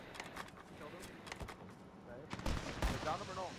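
Gunfire in a Call of Duty video game sounds as sharp, scattered shots with a few louder bursts near the end, under excited voices of players talking.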